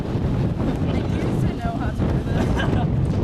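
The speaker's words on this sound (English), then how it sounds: "There's a lot of wind" Steady wind buffeting the microphone outdoors in Kelowna, British Columbia, a constant low rumble and roar running through the whole stretch with no pauses.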